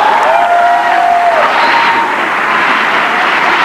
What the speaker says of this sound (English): Y'all keep clapping like that